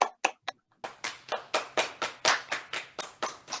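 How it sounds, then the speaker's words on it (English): Applause for Sujan after a piece at a virtual music recital: a few separate claps, a pause, then a steady run of close, evenly spaced hand claps. "let's have a round of applause for Sujan"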